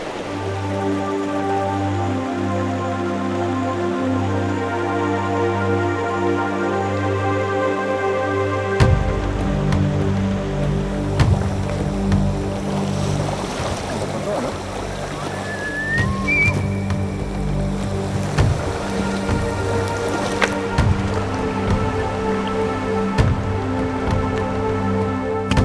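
A river rushes in Cavinti, giving a continuous, fairly loud watery wash under a strong, steady droning hum that fills the whole stretch.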